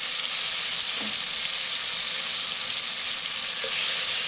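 Panchforan and ginger garlic paste fry in hot oil with a loud, steady sizzle that runs unbroken throughout, with no talking.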